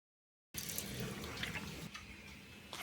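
Water runs into a mix of white and black mustard seeds, green chilies and salt being ground into a paste, a steady splashing pour that starts abruptly and continues close by.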